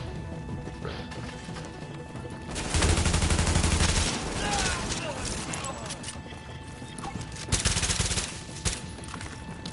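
Gunfire in the shooter game The Division, a burst of rapid shots heard near and loud around the middle, with scattered further shots later, mixed with game sounds and voices talking.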